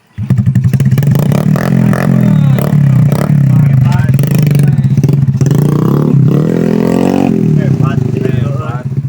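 A motorcycle engine idles and runs close by with a steady low throb, briefly rising in a few revs. Someone talks loudly over it for most of the time.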